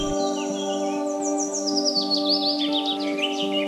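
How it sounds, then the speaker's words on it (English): Goose calls in a forest setting, a run of sliding honks and chirping cries rising and falling over a constant insect-like drone, fairly close and steady, no voices. "Goose."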